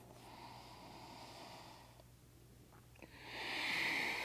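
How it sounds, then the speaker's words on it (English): A deep, audible breath drawn and released through the nose with the lips sealed, soft and close, ending in a rising airy inhale. "resonate the breath so you can breathe with sound, keeping the lips sealed, always in and out through the nose"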